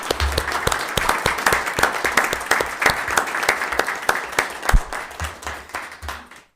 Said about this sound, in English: we can also give you a round of applause